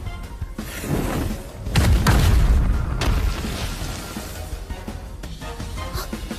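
A hand grenade blast in a fantasy action drama, where the weapon is taken for a thunder-type magic treasure: a heavy, loud boom swells and rumbles for several seconds, then trails off into lingering debris and scattered noise.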